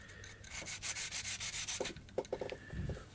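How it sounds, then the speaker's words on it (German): Quick back-and-forth strokes of sandpaper rub against the soft foam edge of a model glider wing, a rhythmic scratchy sanding close up, then a few lighter passes. "So, dann die Seiten noch mal eben einmal anschleife."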